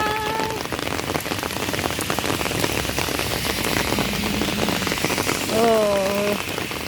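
Rain patters steadily on surfaces beside a city canal in Singapore, a dense close hiss of drops, with brief tonal chirps near the start and end.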